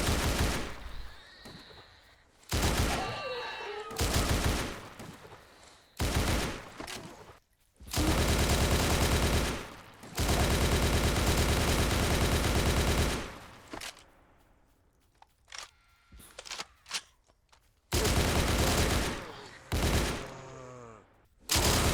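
Short, loud bursts of automatic fire from an RPK rifle in the video game Those Who Remain, with rapid volleys broken by brief gaps and fainter movement sounds between them.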